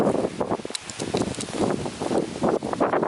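Gusty wind buffets a microphone outdoors in a garden near a raised bed, a continuous rough rushing with rustling surges and brief dips, fairly close and steady throughout.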